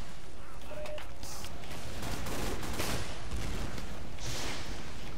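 Rockets fire repeatedly in a Team Fortress 2 match, a dense stream of booming launches and blasts mixed with steady gunfire and game noise, loud and continuous throughout.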